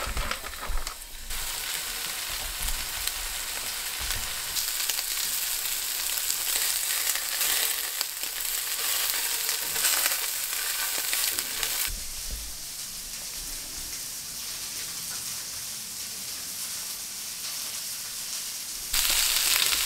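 Sous vide meatballs sizzle steadily in a hot frying pan as they brown, a loud continuous crackle that shifts as they are moved about, with no voices.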